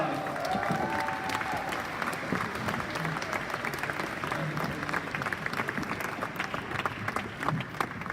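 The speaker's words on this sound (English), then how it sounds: "Big applause for Mark!" A conference audience in Amsterdam claps in a sustained, fairly faint and distant round of applause, with individual claps crackling through a steady wash.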